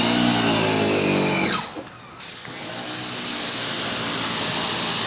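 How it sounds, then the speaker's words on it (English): A pressure washer runs loudly while rinsing a car, a steady whining motor drone that cuts out briefly, then resumes as a broad spraying hiss. "So we'll go ahead and kick the pressure washer on."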